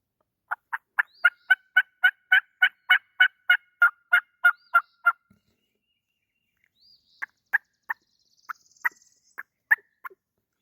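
A cheap diaphragm turkey call mimics a hen turkey, giving a long rapid series of about fifteen sharp yelps, then a pause and a sparser, uneven run of further yelps, close and clear with no talking.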